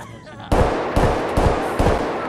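Gunfire in the video game Escape from Tarkov: four loud, close shots spaced roughly half a second apart, each a sharp crack with a booming tail that overlaps the next.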